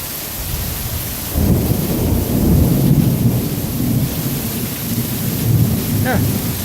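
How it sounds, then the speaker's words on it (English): Heavy thunderstorm rain pours continuously while deep thunder rumbles in and swells, loud and close, with a faint brief voice-like sound near the end. "Lots of rain, lots of thunder."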